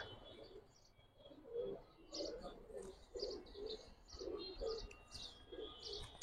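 Soft, repeated cooing of pigeons close by, low rolling calls in an irregular rhythm with faint chirps in the background.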